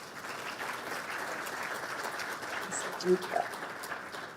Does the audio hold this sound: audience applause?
yes